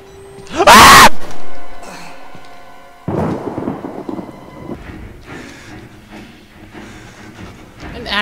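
A loud thunder crack and rumble inside the horror video game Outlast, followed by steady rain and storm noise with fainter game sounds in the background.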